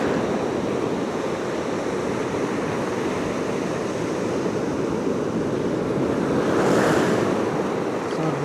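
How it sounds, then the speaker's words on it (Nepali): Ocean waves wash steadily onto a pebbly shore in Cyprus, a loud, continuous roar with some wind noise on the microphone and one surge swelling near the end. "सरर छालहरूले हानिरहेको छ"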